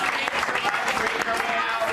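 Applause in a press room, steady dense clapping filling the moment, fairly loud and continuous, with voices mixed in.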